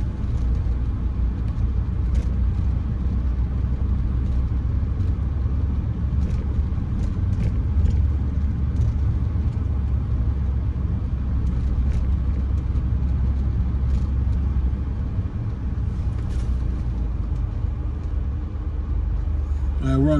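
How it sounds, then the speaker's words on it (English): Steady street traffic rumbles along Allegheny Avenue in Kensington, Philadelphia, a continuous low drone of passing cars and engines. A few brief sharper clicks and knocks sit faintly on top of it. "It's a lot of traffic."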